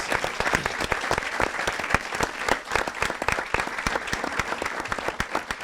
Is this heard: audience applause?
yes